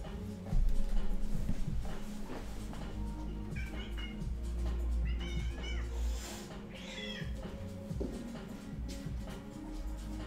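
A house cat meows several times, moderately close, its calls rising over a low steady hum of background noise with no talk.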